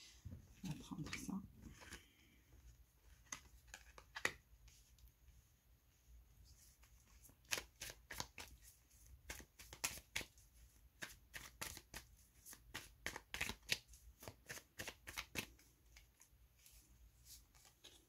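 Tarot cards are shuffled by hand in quick bursts of crisp riffling and soft slaps, close and fairly quiet, with a few pauses between runs and no talking over them.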